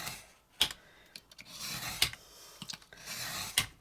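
Paper for a handmade journal being trimmed along a straight edge, a series of quiet, short rasping cuts and scrapes at close range with pauses between them.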